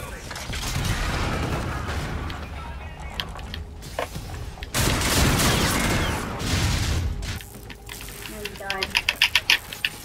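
Rapid bursts of gunfire from the video game Call of Duty Infinite Warfare, loud and dense with sustained volleys, ending in a quick string of sharp separate shots, mixed with game mechanics and voices talking.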